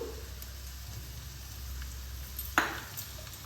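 Cumin, chili and turmeric frying in a pan give a faint, steady sizzle, broken once by a brief metallic clink of a utensil.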